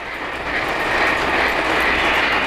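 A Polar Express model work train rumbles steadily along its track on an upper level with a continuous rolling hiss, close and constant throughout, no voices.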